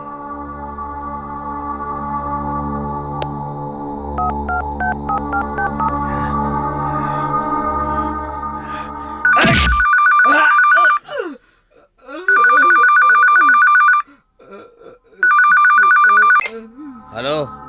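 A telephone is dialed to the sound of a long steady tone, then rings in repeated loud electronic bursts with brief pauses between them, amid music and voices.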